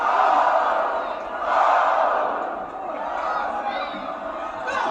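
Wrestling arena crowd on a Monday night WWE broadcast swelling in sustained cheers for Lyra Valkyria, loud and continuous with a surge partway through, commentator voice running over it.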